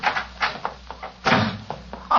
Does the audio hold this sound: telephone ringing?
no